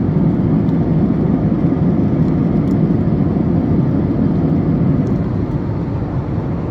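Steady, loud cabin noise of an airplane in flight, a dense low engine drone and whir filling the space without pause for several seconds.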